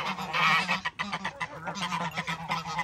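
Geese honk loudly and close by in a farmyard, a continuous overlapping chorus of harsh calls with no talk.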